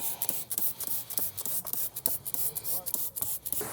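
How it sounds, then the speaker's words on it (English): Fine Scotch-Brite pad scrubbing the inside of a dirty wheel rim on an F-350 pickup, with rhythmic abrasive back-and-forth rubbing strokes, close and steady, and no talk. "really fine Scotch-Brite when you have it on the inside of the rim that needs to be clean"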